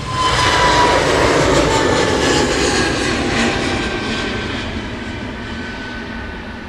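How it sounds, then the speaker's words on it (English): An airliner takes off at Luton Airport with a loud, broad engine roar that swells early, then slowly fades as the plane climbs away. "Nice quick departure."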